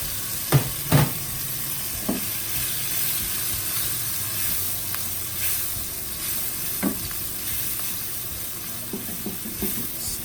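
Ingredients for nasi goreng, including sambal, stirred and fried in a hot pan: a steady close sizzle runs throughout, broken by sharp scraping stirs and utensil knocks near the start, middle and end.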